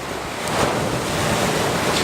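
Ocean surf washes steadily against the shore in a continuous, fairly loud roar, with wind buffeting the microphone throughout and no clear individual breaks standing out.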